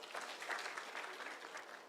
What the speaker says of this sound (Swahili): This is Mpigiani Makofi.